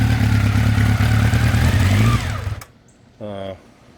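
A 1984 Honda CB700S Nighthawk engine idles loudly with a rough, pulsing rumble, then shuts off abruptly, followed by a brief tone and near silence.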